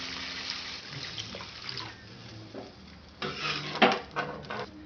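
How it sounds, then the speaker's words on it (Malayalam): Water is poured into a simmering pappadam curry with roasted coconut paste. The soft splashing and pan noise are quiet at first, then grow into a clearer burst of pouring and clinking near the end. "ഇനി ഇതിലേക്ക് വെള്ളം ഒഴിച്ചു കൊടുക്കാം."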